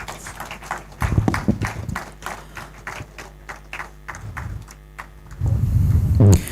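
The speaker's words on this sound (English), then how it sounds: "can we celebrate them with a round of applause?" An audience claps in a round of applause at a formal investiture ceremony honouring newly installed executive members, a steady patter of many hands that swells louder toward the end.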